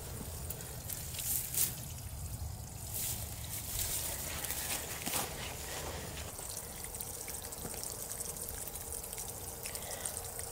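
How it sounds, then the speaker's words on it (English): Water pours and trickles steadily out of holes drilled in two bins, a continuous splashing flow with a few louder gushes, fairly close and without speech. "drill some holes in these two bins so all that water can drain out"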